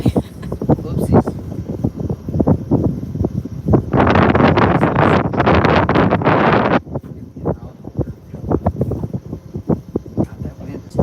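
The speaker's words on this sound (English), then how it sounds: "God, that wind is cold." Cold wind gusts across a pond during carp fishing and buffets the microphone with a loud, rushing roar for several seconds. People talk before and after the gust.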